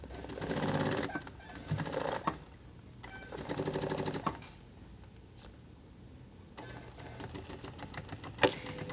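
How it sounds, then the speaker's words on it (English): A sewing machine stitches through stretched elastic on a dress, running in several steady bursts of rapid needle chatter with brief pauses and fabric handling between, close and fairly quiet. "since this is the back, we're going to sew all the way through"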